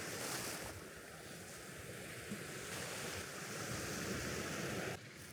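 Winter sea waves wash onto Aigordis beach, a steady, full roar of surf mixed with buffeting wind across the microphone, continuous and fairly close.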